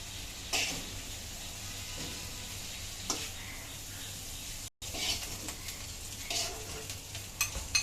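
Prawns fry in oil with a soft, steady sizzle and a few stirring scrapes, fairly quiet and close, broken by a brief silent gap partway through.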